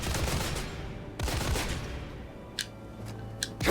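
Gunfire bursts from a weapon in Granblue Fantasy Relink, two dense rattling volleys close together early on, followed by a few sharp isolated cracks and clicks.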